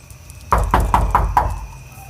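Five quick, evenly spaced knocks rap on a door at close range, sharp and solid, fading into room quiet afterward.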